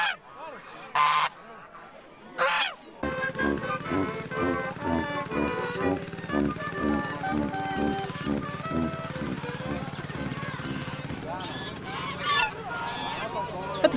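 Geese honking at a goose race with competitors dressed as birds, a dense run of repeated honks close by and steady over a busy outdoor crowd, with a voice briefly at the start.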